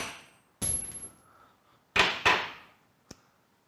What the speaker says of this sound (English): all this should require is a light tap with a hammer